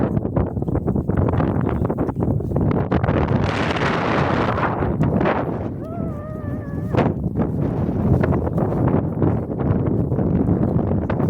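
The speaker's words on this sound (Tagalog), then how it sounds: "Grabe, lakas ng hangin natin." Strong wind buffets the microphone in a steady, loud roar on a mountain hike in Nasugbu, Philippines, with gusty rumbling throughout and a brief faint whistle-like tone midway.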